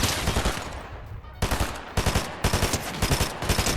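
SMG fire in Fortnite, rapid loud automatic bursts in several short strings separated by brief pauses, close and punchy.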